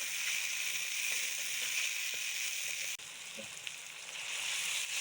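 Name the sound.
tomatoes frying with onions in a pan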